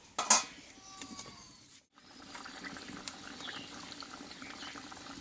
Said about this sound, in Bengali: আমার ঝোলটা কিন্তু ফুটে গেছে